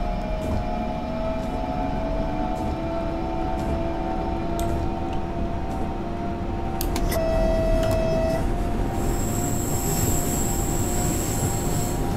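A high-speed train runs in Train Simulator 2018, giving a steady rolling rumble with a rising motor whine, some clicking, and a high squeal or tone near the end, with no talking.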